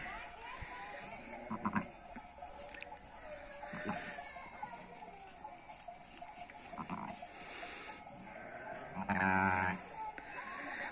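A mother sheep and her newborn lamb bleat on a village farm, several short calls scattered over a quiet rural background, with a louder bleat near the end and people talking nearby.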